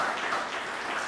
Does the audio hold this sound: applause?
yes